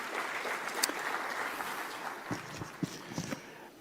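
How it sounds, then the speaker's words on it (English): Audience applause for a business awards jury in Mumbai, a steady patter of many hands clapping across a large hall, moderately distant, with a few sharper claps standing out toward the end. "Could we have a huge round of applause for our wonderful jury?"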